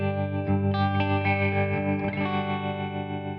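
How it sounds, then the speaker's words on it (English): A sustained electric guitar chord with a pulsing, choppy tremolo, the volume throbbing steadily and hard-edged, heard alone without talk. "You get a much harder tremolo sound when we have the shape all the way up"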